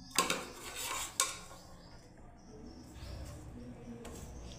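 A spoon clinks and scrapes twice against a bowl while shrikhand is mixed with dates, raisins and pomegranate, then softer rustling and faint voices follow quietly.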